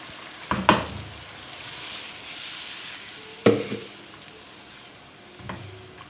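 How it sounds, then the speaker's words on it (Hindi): Tomato paste goes into frying chicken in a pan, giving a steady low sizzle with three distinct scraping or splattering bursts spaced a few seconds apart, close and moderately quiet. "और अब मैं इसमें डाल रही हूँ ये टमाटरों की पेस्ट।"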